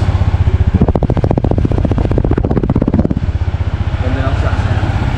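A 2025 Honda ADV 160 scooter engine rumbles loudly up close, rising into a rapid pulsing rev for a couple of seconds before settling back to idle.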